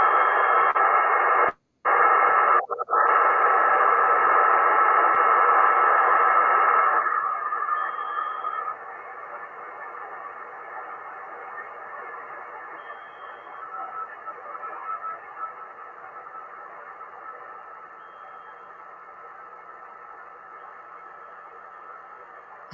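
A weak radio carrier sits buried in broadband receiver hiss, heard over a continuous stretch of static that is loud at first with a brief dropout, then quieter and steady, with no voices.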